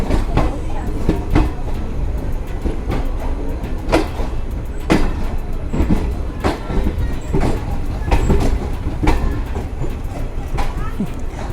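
Jammu Tawi–Jodhpur Express (19226) sleeper-class train running at speed through an isolated stretch in India, a steady loud rumble heard from inside the coach with repeated rhythmic wheel clacks over rail joints, close and continuous.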